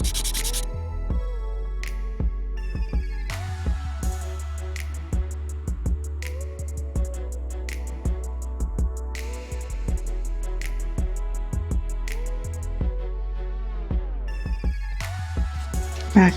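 Gel nails built with Madam Glam soak-off builder gel being filed and shaped with the 100 grit side of a nail file: steady, close rasping strokes in a quick repeating rhythm, with no talking.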